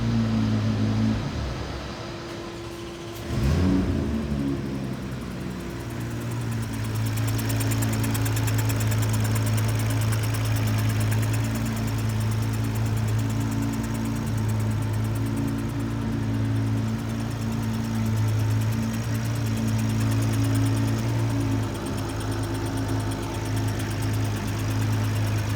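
A running engine with a leaking injector nozzle idles steadily with a low drone and a fine, continuous rattling tick throughout, fairly close and without talk.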